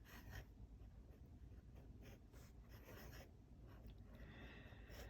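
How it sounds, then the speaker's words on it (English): Fine nib of a Sailor Pro Gear Slim fountain pen scratching across paper in a steady, close, pencil-like rasp with quick strokes and short pauses, no talking. "It scratches the paper like a pencil"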